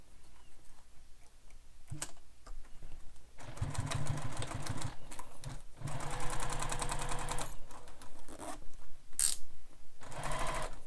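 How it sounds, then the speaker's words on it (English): Sewing machine basting a zipper in place on a bag, a loud close mechanical rattle of rapid stitches running in several bursts separated by short pauses. "I'm going to baste my zipper in place"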